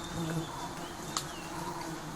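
Asian honey bees hum continuously inside their colony, a soft steady drone with faint higher whines and one brief click partway through.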